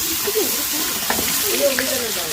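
Ground ripe tomato paste sizzles in a hot pan on a wood-fired stove for beef biryani, a steady bright hiss with occasional stirring, while a person talks over it.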